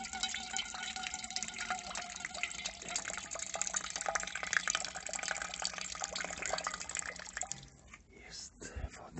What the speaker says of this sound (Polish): Muszę mu wody nalać.